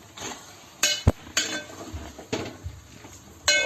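A spoon scrapes and clinks against a pan while stirring tomato brinjal curry, giving a handful of sharp metallic knocks with a couple of louder taps spaced unevenly, close and clear with no talking.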